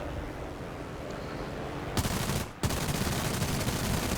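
Machine guns on a P-36G fighter chatter in War Thunder, a dense continuous rattle under loud engine roar, breaking briefly before the firing resumes.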